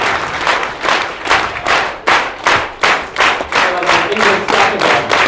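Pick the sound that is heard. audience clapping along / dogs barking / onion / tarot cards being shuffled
audience clapping along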